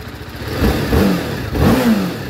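A TVS Apache RR 310 motorcycle engine with stock exhaust revs sharply twice, each burst rising in pitch and then dropping back to a rough, throaty idle.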